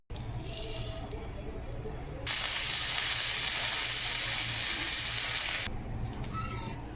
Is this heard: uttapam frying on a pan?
yes